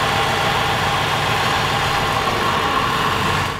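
A steady, close car engine idling with an even rumble and no voices, cutting off at the very end.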